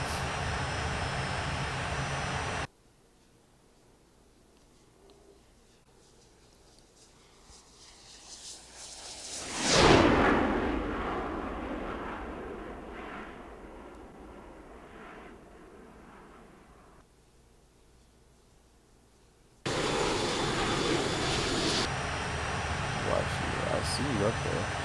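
Full-power jet engine roar from an F-14 climbing toward high altitude in the Infinite Flight simulator, swelling sharply to a loud peak and then slowly fading over several seconds, with speech before and after.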